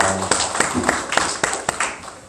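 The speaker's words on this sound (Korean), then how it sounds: "하나님께 영광의 박수를 드리도록 하겠습니다" A church congregation at a Thanksgiving service claps in a steady, evenly spaced rhythm, with about six sharp, fairly close hand claps over a low room murmur.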